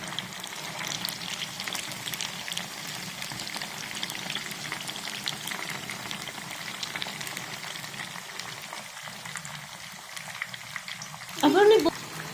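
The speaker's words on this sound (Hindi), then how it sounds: "अब इसको मज़ीद फ्राई होने दें।" Fish pakora fry in hot oil with a continuous soft bubbling sizzle and a brief louder burst near the end, under a constant background hiss.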